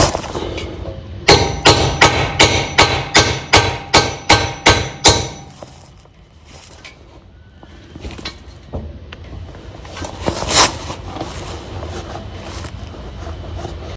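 Universal joint caps being tapped with a socket during a U-joint replacement on a vehicle driveshaft: a rapid run of about a dozen loud, sharp metallic knocks, then quieter scattered clanks and shop noise.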